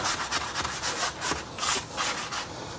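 A sanding pad rubs back and forth over painted interior wood, giving close, steady rasping strokes in an uneven rhythm with no voices.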